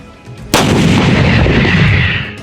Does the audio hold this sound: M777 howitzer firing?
yes